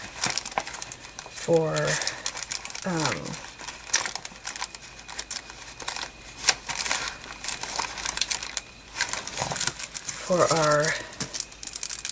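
A sheet of puffy Santa stickers crinkles and rustles as it is handled for a Christmas planner, in close, crisp bursts while someone talks.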